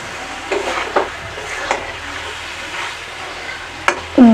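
Small puti fish and spices fry in a pan with a steady crackling sizzle, broken by a few stirring scrapes and clinks, and a sharper pan sound near the end.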